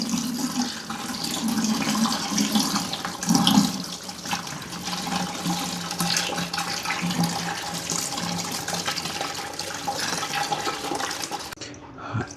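Regular tap water pours steadily and splashes over a dirty motorcycle air filter from an RS 457, a constant close rushing with brief louder splashes.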